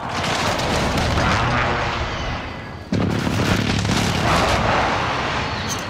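A grenade explodes in an online shooter game, a loud sustained roar of blast and rumble, cut by a sharp new burst midway that keeps booming to the end.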